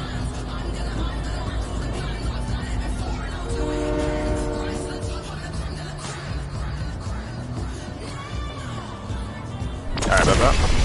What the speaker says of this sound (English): Oh, the train's coming. We have to wait till the train's gone.